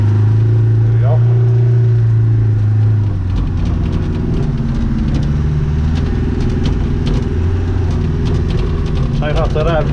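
A four-wheel drive vehicle in low range labours over rough ground, its engine droning steadily and shifting pitch, with faint rattles and knocks and what may be rain on the body.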